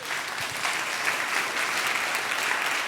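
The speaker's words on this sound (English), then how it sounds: "Let's give him a round of applause." An audience claps steadily after a talk on developing the brain, a dense, even wash of applause lasting the full few seconds with no voices on top.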